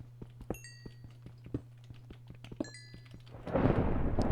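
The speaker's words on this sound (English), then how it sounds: "Oh damn, it's thundering" Thunder rolls in a Minecraft hardcore world set in a jungle: a deep rumbling roar swells in for the last second after quiet footsteps, soft thunks and a couple of high chiming tones.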